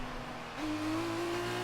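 A Formula 2 race car engine in F1 2019 drones at a steady pitch, then jumps abruptly higher and holds loud and close, like a gear change under power.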